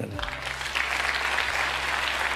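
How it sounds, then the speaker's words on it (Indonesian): An audience applauds at a speech, steady crowd clapping with a low droning hum beneath, fairly constant throughout. "Tepuk tangan."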